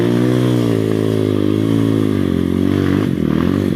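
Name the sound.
motorcycle riding in second gear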